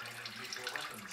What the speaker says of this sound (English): is coolant slowly draining out of that lower connection for the lower radiator hose out of the engine block.